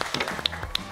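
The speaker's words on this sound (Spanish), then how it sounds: "Pido a la mesa un aplauso." In a Spanish-language football talk show studio, scattered applause breaks out, a few sharp individual claps over a thin patter of hands, short and fairly quiet.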